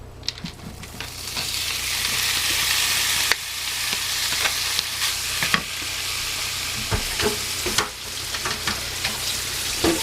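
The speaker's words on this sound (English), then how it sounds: "I have a frying pan on, and we're going to cook this back up and get it nice and crispy" Canned ground beef sizzles and crackles in a frying pan, a steady close frying hiss broken by scraping stirs and a few sharp utensil knocks.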